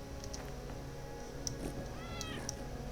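A cat meows in the video game Cozy Keep, a few short mewing calls over a steady bed of game music and ambience.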